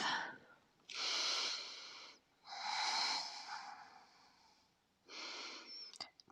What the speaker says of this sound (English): Two more nice deep breaths here.